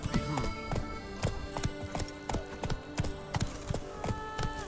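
Horse Roach trotting in the Witcher 3 video game, a steady, rhythmic clip-clop of hooves, close and clear, with a brief whinny-like sound early on.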